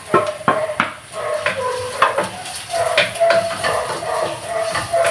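Garlic and onion sautéing in a pan for a creamy chicken pasta, with a steady close sizzle broken by sharp clinks and scrapes of a utensil against the pan, no talk.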